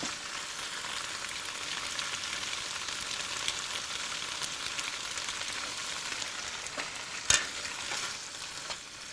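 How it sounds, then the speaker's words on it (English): Pak choy with prawns in oyster sauce stir-frying in a wok, a dense steady sizzle close up with a few quick scraping stirs and one sharp metallic knock near the end, no speech. "Give it a few quick stirs and it's ready."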